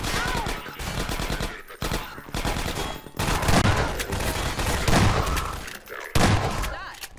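Gunfire in Half-Life 2 Episode One: loud, close bursts of rapid automatic shots in dense volleys, broken by brief pauses and mixed with voices.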